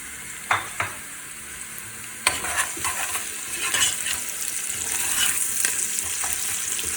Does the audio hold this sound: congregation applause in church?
no